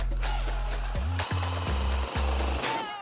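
A hammer taps a plastic wall anchor into a concrete wall with a series of close, sharp knocks over a loud mechanical drone.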